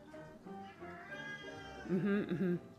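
A cat meows close up, ending in two loud, drawn-out meows, with a faint voice nearby.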